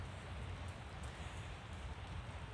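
Steady rain pours down during a California winter storm in January 2023, a dense, continuous hiss with no pauses and no voices.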